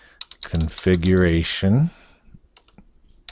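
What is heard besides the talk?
typing on a computer keyboard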